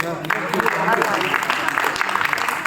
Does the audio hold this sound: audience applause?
yes